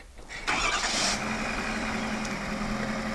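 A 2026 Ford F-350 High Output pickup engine cranks and fires up, then settles into a steady, fairly loud idle that runs to the end.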